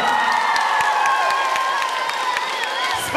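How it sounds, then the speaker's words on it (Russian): Audience applause at a children's summer camp show in Crimea, with a dense run of clapping and scattered cheers from a crowd, steady and fairly close throughout. "Еще раз провожаем аплодисментами."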